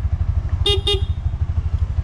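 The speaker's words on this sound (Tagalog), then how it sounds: "Ito ang kanyang busina." A Bajaj RE auto rickshaw horn gives two quick, close honks over the steady throbbing rumble of its idling engine.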